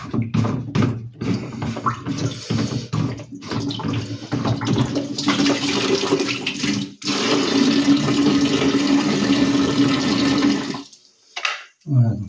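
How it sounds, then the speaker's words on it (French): Running water rinsing a well water filter, a loud, close, continuous rush and splash that breaks off briefly and then stops near the end. "j'ai besoin de le rincer un peu, c'est plus simple à nettoyer"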